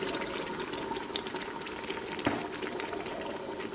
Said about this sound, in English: now I'm going to pour in the red wine